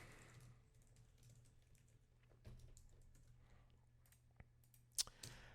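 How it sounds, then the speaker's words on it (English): Typing on a computer keyboard with soft, irregular key clicks at close range, getting busier toward the end with a few sharper, louder strikes, over a low steady hum and no talk. "Just typing down the title of this new episode."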